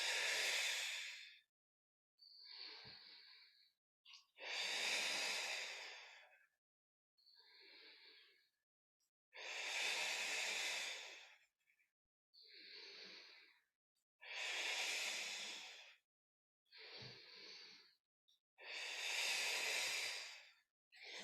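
Repeated breaths during a Pilates curl-up with a magic circle in a hips and core class: long, close, breathy exhales alternating with shorter inhales in a slow, even rhythm, with no talking.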